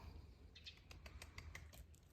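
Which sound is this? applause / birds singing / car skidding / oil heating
birds singing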